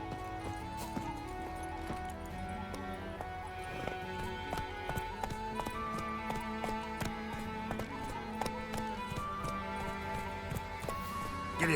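Roach the horse galloping in a video game, a steady hoofbeat rhythm running under music or ambient game sound at moderate volume.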